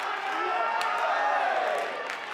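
A wrestling crowd at an NJPW STRONG Independence Day show roars, yells and cheers in a loud, unbroken wall of noise with scattered whoops.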